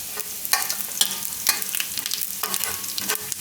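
Cumin seeds crackle and sizzle in hot salted oil on a low flame, a continuous fizz broken by several sharp stirring clicks at roughly half-second intervals.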